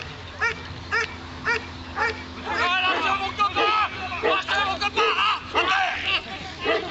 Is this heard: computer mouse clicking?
no